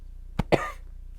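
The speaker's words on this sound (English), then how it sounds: "Cleared my throat, burped, and coughed." Two quick, close coughs in succession, short and sharp, against a low background hum.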